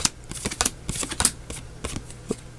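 Pokémon trading cards from Ultra Force booster packs, including mirror foils, get handled and flipped through in a quick run of crisp close slaps and shuffling rustles.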